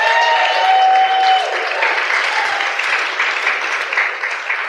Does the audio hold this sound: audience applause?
yes